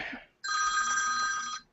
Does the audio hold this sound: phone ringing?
yes